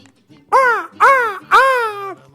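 Three loud, harsh, drawn-out calls from a scrub jay, crow-like rasping squawks evenly spaced about half a second apart, close by and alone without talk.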